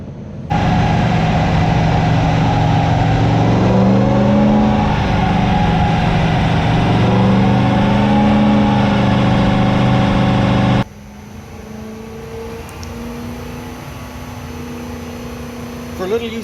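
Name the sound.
1UZ V8 engine revving on dyno, Zephyr with Haltech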